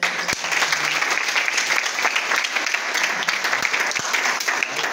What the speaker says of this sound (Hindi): तो आप इनके लिए ताली बजाइए।